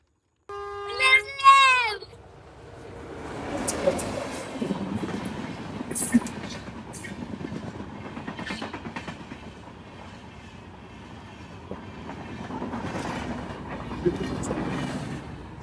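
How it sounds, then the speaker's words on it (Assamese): A long train rolls past steadily with rumbling wheels and rhythmic clatter sustained for the whole stretch, preceded by a brief horn-like call at the start. "ৱাও, ইমান দীঘল ট্ৰেইনটো ৰে।"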